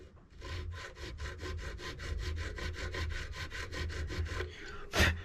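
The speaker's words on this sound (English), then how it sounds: "in case I file it just one stroke too much" A new nut on a distressed Gibson Master Model F5 mandolin is filed with about twenty quick, even rasping strokes in a steady rhythm, close and clear, ending in a short sharper scrape.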